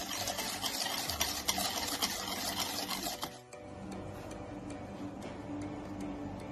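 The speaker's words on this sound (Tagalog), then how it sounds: "Haluin mabuti hanggang matunaw ang sugar" A spoon steadily stirs sugar and other wet ingredients for choco crinkles in a mixing bowl, making a continuous close scraping and swishing that eases briefly partway through before carrying on.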